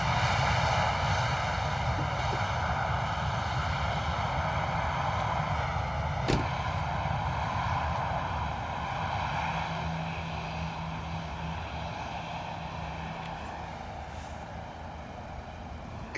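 EasyJet airliner arriving at London Luton Airport on a misty day, a continuous engine whine and roar with tonal hum, loud at first and slowly fading as it rolls away.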